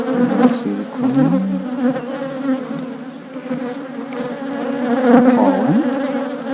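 Dense, close buzzing of honeybees comes from a newly established beehive. It is a loud, continuous drone that swells and fades slightly as individual bees pass near.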